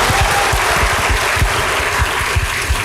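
A church congregation claps steadily and loudly together, a dense continuous applause with rhythmic low thumps running through it, with no voices heard.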